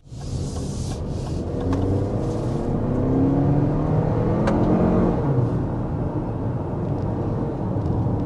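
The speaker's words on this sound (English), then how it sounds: "There's a quick punch of the accelerator with this RX 350." A Lexus RX 350 engine swells under a quick punch of the accelerator, a steady rising rumble and whir from the cabin that holds strong for several seconds.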